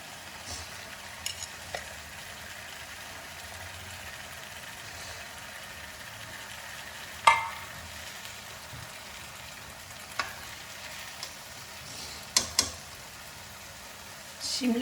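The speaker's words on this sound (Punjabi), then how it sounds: "ਇਹਦੇ ਵਿੱਚ ਹੁਣ ਆਪਾਂ ਪਾਵਾਂਗੇ ਸ਼ਿਮਲਾ ਮਿਰਚ" Capsicum stir-fried into a pumpkin sabzi, a soft, steady pan sizzle broken by a few sharp clinks and scrapes of a spoon or ladle against the pan.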